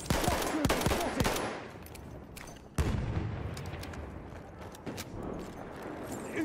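Machine gun fire in the Battlefield 1 video game on the Rupture map, a cluster of sharp rapid bursts at first, then a loud crack followed by scattered fainter shots and rumbling.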